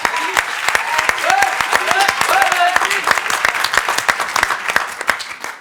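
Audience applause at a high-school debate competition, loud, close crowd clapping with sharp individual claps, while a few voices call out and cheer in the middle.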